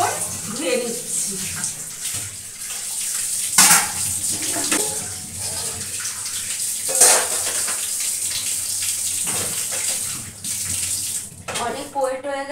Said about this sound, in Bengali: দেখো কত বাসন পড়েছে, তো আমি এখন একদম ভালো করে এখন ধুয়ে নিচ্ছি।